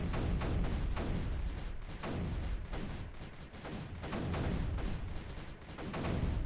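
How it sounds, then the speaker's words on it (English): Mortar rounds firing and exploding in the video game Creeper World 3, a continuous stream of muffled thumps and blasts in a fast, uneven rhythm, moderately loud with no voices. "I'm going to do a mortar. And delight while this mortar annihilates everything"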